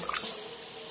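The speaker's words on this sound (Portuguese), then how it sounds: "Olha aqui como é que começou a sair a água" Tap water gushes steadily into a kitchen sink during an outage as the supply returns, a close, continuous splashing hiss with no talk.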